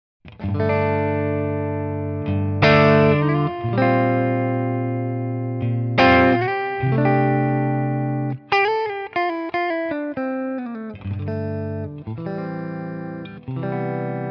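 Clean electric guitar through a PRS SE Swamp Ash Special's neck single-coil pickup, with a bright, round tone playing chords and single-note runs, steady and close, with no voices.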